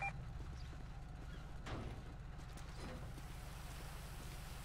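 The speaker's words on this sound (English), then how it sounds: "Frick this rain." Rain in GTA FiveM roleplay, a quiet continuous patter with a low mechanical hum and a few soft ticking clicks, no voices.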